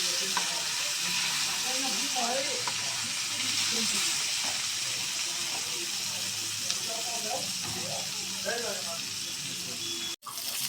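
Rui fish frying in oil in a pan, a continuous hiss and crackle under a voice talking throughout, ending with a short break.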